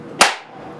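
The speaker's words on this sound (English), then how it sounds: "Well, I got a fairly loud bang, and the can appears to have a crushed midsection." A capacitor bank discharges through a soda can and crushes its midsection: one sharp, loud bang, close and alone, fading quickly into a quiet room hum.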